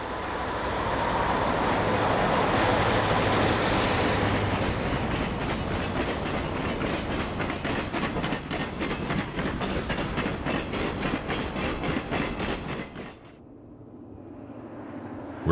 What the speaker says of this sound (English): There's an Illinois Central sleeper near the end of this train at Echo Canyon, Utah.